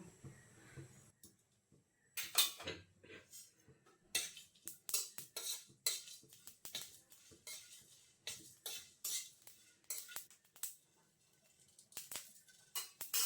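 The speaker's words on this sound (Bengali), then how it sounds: "এখন লঙ্কাটা দিয়ে দিচ্ছি প্রথমে, আর পাঁচফোড়ন, এগুলো সবই একসঙ্গে দিয়ে দিচ্ছি, দিয়ে ভেজে নেব" Chillies and panch phoron spices are stirred in a wok, a quiet run of irregular metal scrapes and clinks from a utensil against the pan, close and without voices, for a mixed vegetable chorchori.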